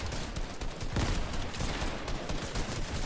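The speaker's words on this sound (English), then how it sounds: "Oh, he's shooting at me!" Video game gunfire rattles in a dense, continuous fusillade of rapid shots, loud and close, with no pauses throughout.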